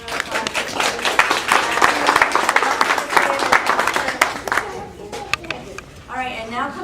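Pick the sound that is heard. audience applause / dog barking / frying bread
audience applause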